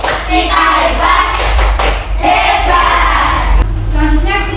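A fifth-grade Indonesian elementary classroom claps together in the rhythmic "tepuk hebat" cheer, with bursts of hand claps and thumps mixed with children's voices chanting, loud and close.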